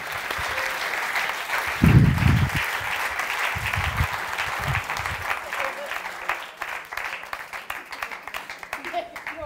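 An audience at a seminar applauds with dense, steady clapping that thins into more distinct individual claps. Someone speaks over it and a few voices and laughs come through.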